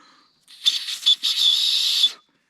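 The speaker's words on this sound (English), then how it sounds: "It's a survival bracelet. It's got a whistle." A small plastic survival whistle on a paracord bracelet blown in short bursts outdoors, a shrill airy tone heard close and loud in two quick blasts followed by one sustained blow of about a second.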